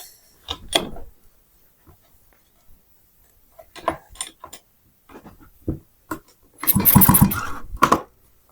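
A Stihl MS230 chainsaw with a wet spark plug and no spark being pulled over: bursts of starter-cord rattle and mechanical clatter, ending in one longer, louder pull near the close, without the engine catching.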